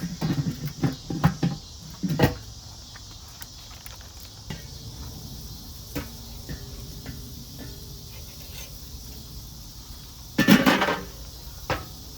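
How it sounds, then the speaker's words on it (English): A metal lid clinks onto a pan of sizzling burgers with melting cheese, a few sharp knocks near the start and another clatter of cookware later, over a faint steady background hiss. "Put the lid on just long enough to melt that cheese"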